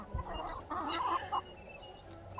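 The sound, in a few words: clucking of a red Tedhi desi hen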